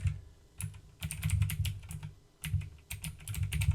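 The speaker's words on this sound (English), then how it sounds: "So I'm going to type in" Bursts of rapid keystrokes on a computer keyboard as a web address is typed, clicking in quick uneven runs with short pauses between, close and clear with no voices.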